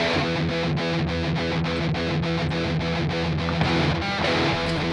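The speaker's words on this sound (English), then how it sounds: "So I'm going to add a drive pedal here." Electric guitar distorted through a tube drive pedal plugin, playing a steady chugging rhythm of repeated palm-muted chords, loud and dense, with no talking.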